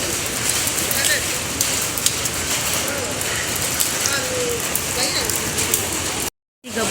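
Rain falling at Tannirbavi beach: a steady, loud, dense hiss that fills the scene without letup and cuts out abruptly near the end.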